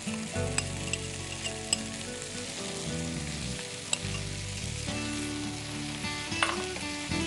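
Mutton or chicken mince fries noisily in a pan while being stirred, a close, steady sizzle broken by scraping and clinking of the spoon, over a faint tonal background.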